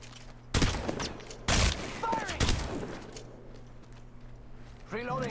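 In Apex Legends Mobile, several sharp bursts of automatic gunfire crack out close and loud in quick succession, then trail off into quieter game sounds. A player's voice talks over part of the action.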